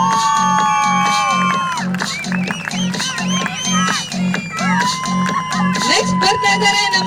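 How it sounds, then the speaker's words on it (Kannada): An audience cheers and whoops loudly with scattered shouts, over a steady, pulsing music beat that runs underneath. "ಬರ್ಲಿ ಜೋರಾದ ಚಪ್ಪಾಳೆ"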